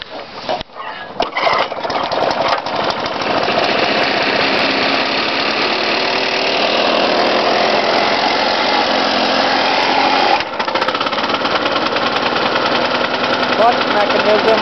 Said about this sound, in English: Engine's cold, starts real nice and easy.